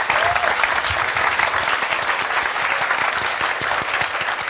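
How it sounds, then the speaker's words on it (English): Loud, sustained crowd applause fills the hall at a motorsport esports event in Tokyo, steady dense clapping with no talk over it. "let's give them a big round of applause"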